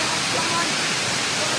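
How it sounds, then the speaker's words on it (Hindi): The Parvati waterfall in the Himachal mountains roars at night, a loud steady hiss of rushing water that fills the whole clip without changing. "ये पार्वती झरना"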